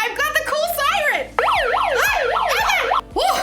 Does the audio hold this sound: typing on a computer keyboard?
no